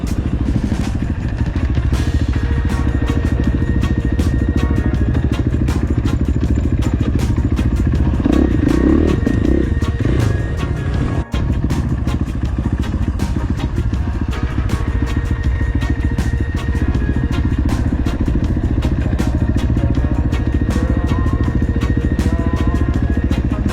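A dirt bike descends a steep canyon trail at Wilson Canyon in northern Nevada, its engine droning loud and close throughout, with constant rattling clatter, thumps and scrapes as it bounces over rough ground.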